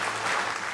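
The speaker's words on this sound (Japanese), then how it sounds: "もう一度大きな拍手をお願いいたします。" Award ceremony audience applauding at a peace prize presentation, a brief, steady wash of distant clapping.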